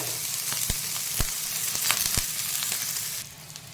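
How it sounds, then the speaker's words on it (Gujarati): Paneer cubes frying in a pan and being turned on all sides, a bright steady sizzle with several sharp clicks of a utensil, the hiss dropping off near the end; nobody speaks. "એને બધી સાઈડથી આપણે ફ્રાય કરી લેવાનું."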